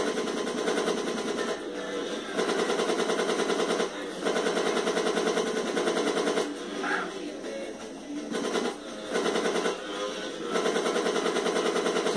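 Bursts of automatic gunfire fired from a moving vehicle in GTA San Andreas, sustained rattling volleys broken by short pauses across the clip, with a steady engine-like background underneath.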